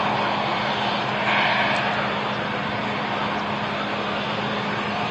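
Aircraft arriving from Bologna touching down at Manchester Airport, a loud, steady engine roar close by that fills the whole stretch without a break.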